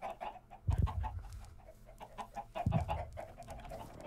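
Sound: chickens clucking in Minecraft video game

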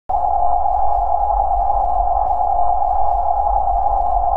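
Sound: pothole warning sound in skateBoarder Pro video game

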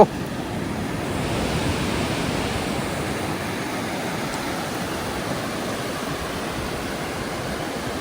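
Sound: beach waves and strong wind

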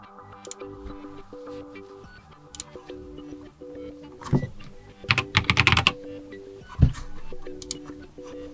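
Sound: typing a password on a Lenovo Tab E10 tablet

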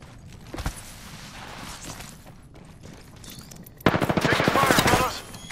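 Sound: gunfire in a video game

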